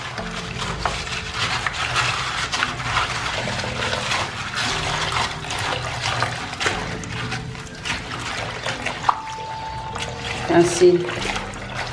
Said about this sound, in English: so just add water to rinse